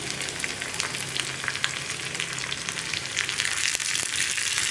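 Three dried red chillies fry in hot oil with onions, making a bright, steady crackling sizzle that grows slightly louder toward the end, close-up and without speech.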